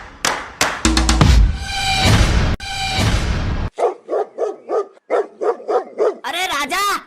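Cartoon dogs barking and yipping in short rapid bursts after a loud swirling magical effect, with excited whimpering yelps at the end, all close and loud.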